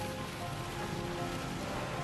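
A heavy rain downpour at an outdoor scene makes a dense, steady hiss of water hitting surfaces, constant and fairly close throughout.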